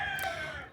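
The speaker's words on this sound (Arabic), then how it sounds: "الديك بيصبح عليكم." A rooster crows nearby in an Egyptian rural home, a short loud strained call heard alone with no talking.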